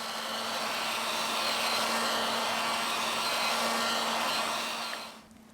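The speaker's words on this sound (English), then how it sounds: "We apply heat to the device to remove the battery cover." A heat blower runs close and loud on an Oppo A9 2020 phone to soften the battery cover, a constant whooshing fan roar that cuts off near the end.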